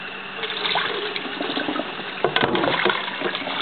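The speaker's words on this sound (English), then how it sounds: "you want to take it over here to the kitchen sink. And you want to rinse it." Running water from a kitchen sink tap splashes steadily as goat's milk butter is rinsed beneath it, a constant close gush with small irregular splatters and no talking.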